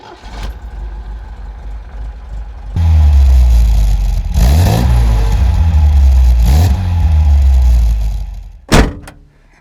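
An MGB GT sports car engine cranks and catches after a quiet start, then idles loudly with two rising revs before settling, followed by a sharp thump near the end.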